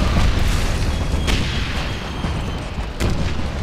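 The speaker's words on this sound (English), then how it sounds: "mortar fire!" Mortar fire in the shooter Wolfenstein (2009), heavy booming impacts over a steady rumbling battle din, with two sharp blasts standing out about a second and a half apart.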